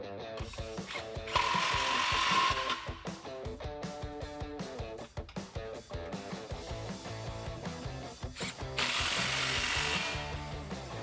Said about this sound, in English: I can go through and just snug my clamps up, not fully tighten them